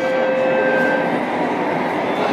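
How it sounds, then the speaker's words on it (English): A train passes through Harbor Front station in Singapore, a loud, steady rumbling roar with a high whining tone, close by and continuous for the whole stretch. "Passing. Another train."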